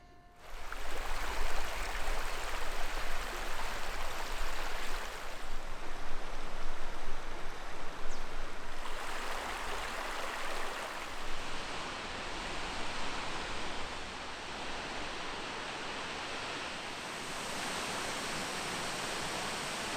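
A waterfall flows as a constant broadband rush of falling water that swells and eases slightly over time, steady and fairly close, with no voices.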